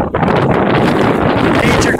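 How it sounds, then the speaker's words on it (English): Loud, blustery crosswind gusts of about 40 to 45 mph buffet the microphone while cycling in Nicaragua, a rough continuous rush that swells and dips throughout. "Major crosswinds today, probably 40, 45 mile an hour wind gusts, blowing me all over."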